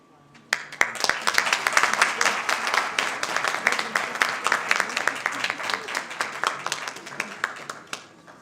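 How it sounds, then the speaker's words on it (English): An audience at an International Migrants Day event in Kenya bursts into warm applause, many hands clapping in a dense, sustained roar that holds for several seconds and fades near the end, with talking mixed in. "Let's give him another warm round of applause for a job really well done"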